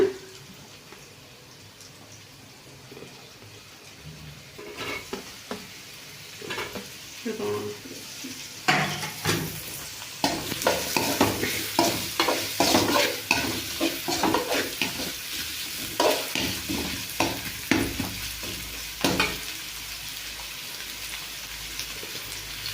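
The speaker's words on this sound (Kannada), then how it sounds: "ಸ್ವಲ್ಪ ಫ್ರೈ ಆಗ್ತಾ ಇದ್ದಕ್ಕೆ ಸೊ ಇದಕ್ಕೆ ಆನಿಯನ್ ಹಾಕ್ಕೊಳ್ಳೋಣ." Chopped onions for chicken fry sizzle in hot oil in a pan, starting quiet and swelling into a busy, crackling fry with repeated scraping stirs and spatula clatter; nobody speaks.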